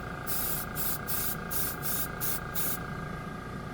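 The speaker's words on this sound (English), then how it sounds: "Compressor coming back on." Airbrush driven by a compressor sprays Mr. Color Ultra Metallic paint over a dark gray base, sounding as seven short, bright hissing bursts in a steady rhythm over a constant low compressor hum, close and fairly loud.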